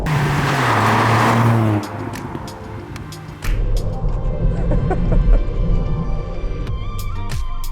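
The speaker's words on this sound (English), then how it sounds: "You can drop it to second and gun it." A Ford Fiesta ST MK8 drops to second gear: a brief rev, a short lift, then the engine pulls hard and loud under acceleration until the end.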